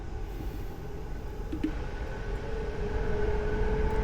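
A JR East Keihin-Tohoku E233-1000 commuter train runs in a train simulator game, giving a steady, continuous rumble and rail hum with faint tonal motor whine, constant and unbroken.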